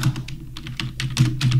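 Quick bursts of keystrokes on a computer keyboard, close and clear, in an uneven rhythm of short clusters with no talk.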